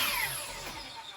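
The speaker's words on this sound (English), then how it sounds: "Got my safety glasses on, got my miter saw ready to fire" A miter saw cuts pallet wood into small bars, a loud steady whine of the blade biting through the board in one continuous stretch, up close with no talking.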